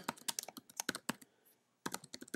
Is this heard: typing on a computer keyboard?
yes